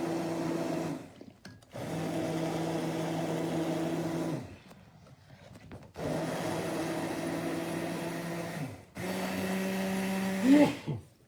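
A blender whirs loudly in three long bursts, stopping briefly between runs, its motor pitch shifting slightly as it purees sweet potato soup.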